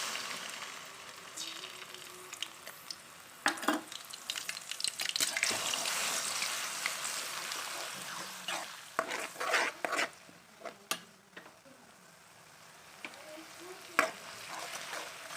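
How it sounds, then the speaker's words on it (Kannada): Ground onion paste fries in hot oil with a steady broadband sizzle, broken by sharp stirring scrapes and spatters that come and go, loud and close, with no voices. "ಈರುಳ್ಳಿ ಹಸಿ ಸ್ಮೆಲ್ ಹೋಗೋವರೆಗೂ ಫ್ರೈ ಮಾಡ್ಕೋಬೇಕು"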